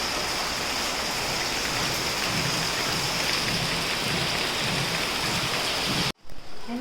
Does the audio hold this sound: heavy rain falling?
yes